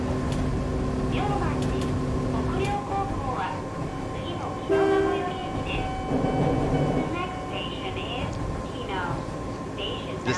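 An Eizan Electric Railway train runs in a train driving game, a steady rail rumble with squeals and a brief horn-like tone, while someone talks over it throughout.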